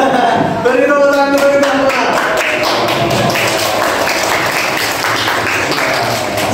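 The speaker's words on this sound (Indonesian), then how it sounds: "beri tepuk tangan." Classroom applause at the close of a civics lesson, with students clapping in a dense, loud patter over several seconds and voices heard near the start.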